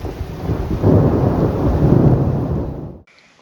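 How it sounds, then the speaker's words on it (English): Thunder rolls in a deep, loud rumble over steady rain high in the mountains at over 9,000 feet during a backpacking trip, swelling for a few seconds and then cutting off abruptly. "I don't know how to deal with rain."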